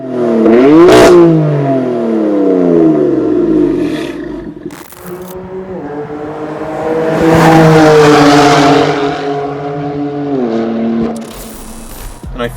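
A loud BMW M4 with an M Performance titanium exhaust, secondary cats deleted, revving hard, the engine note rising and falling through several throttle blips with a raspy, aggressive roar.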